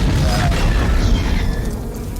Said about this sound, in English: Gas truck explosion.